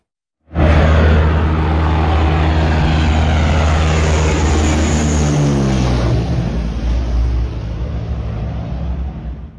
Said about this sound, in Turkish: Dev kargo uçağı havada arızalandı, evlerin, araçların üzerinden geçti.